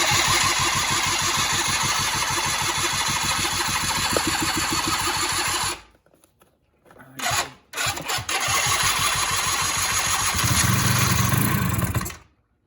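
Polaris Scrambler 90 ATV, a non-running machine that needs a carb clean, cranks and fires into a loud, steady, rattling idle, cuts out to near silence, sputters, then restarts and runs again close by.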